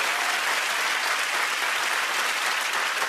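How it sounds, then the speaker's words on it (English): A children's game-show studio audience gives a dense, sustained round of applause, loud and even from start to finish, with crowd noise blended in and no clear talk over it. "Give them a round of applause, everybody."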